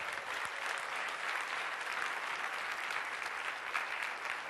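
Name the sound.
audience clapping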